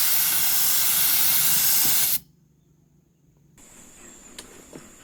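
An H&L R2 Pro spray gun sprays with a loud, steady hiss that cuts off abruptly after about two seconds, leaving faint background sounds and a couple of small clicks.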